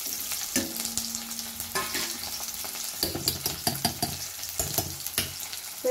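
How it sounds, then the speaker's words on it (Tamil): Onions tipped into hot oil with popped mustard seeds for a dry fish kuzhambu sizzle and crackle steadily, with stirring scrapes and small pops throughout, close and moderately loud. "இப்போ கடுகு பொறிஞ்சிருச்சு, கொஞ்சமாக வெங்காயம் சேர்த்துக்கிடுவோம்"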